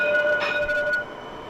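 A Métro Express light-rail train in Mauritius rolls by in a short burst of steady mechanical rumble and hiss, with tonal squeal lines that stop abruptly partway through, leaving a quieter tail.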